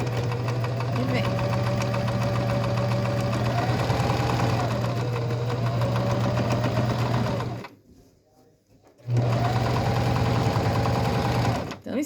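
A sewing machine runs steadily, stitching patchwork pieces held with pins, its motor humming close and continuous before stopping briefly and starting up again.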